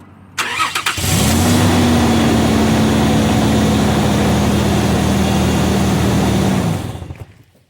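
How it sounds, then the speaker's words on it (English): A Nissan Pathfinder engine cranks and starts, then runs at a steady, loud idle for several seconds before shutting off. "Right now I'm going to be turning on the engine"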